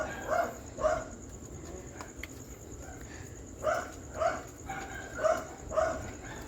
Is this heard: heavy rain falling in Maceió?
no